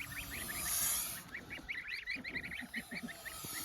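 A broody goose on a farm gives a run of short, repeated honking calls, nasal and fairly close, with a brief burst of wind or handling noise early on and no talk.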